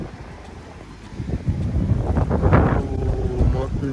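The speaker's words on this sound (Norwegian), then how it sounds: "måten vinden bare treffer trynet ditt" Morning wind gusts in a backyard rumble across the microphone, rising after a quiet start into a strong, continuous roar.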